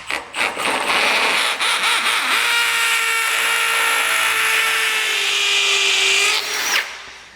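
A power drill whines loud and close in one sustained high-pitched run of several seconds, boring a 3/8 hole for a wedge anchor, with a few short bursts before it spins up and cuts off at the end.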